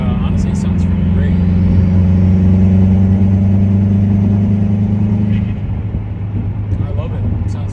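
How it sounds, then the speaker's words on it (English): A 2015 Subaru WRX fitted with Tomei unequal length headers drones with a deep, steady boxer rumble while driving, loud and close from inside the car. Someone talks over the engine. "I've been driving the car for about like 10 minutes now with the Tomei unequal length headers, and honestly it sounds pretty great"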